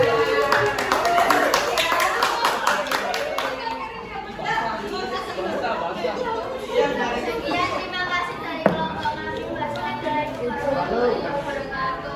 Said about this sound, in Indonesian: Jadi beri tepuk tangan.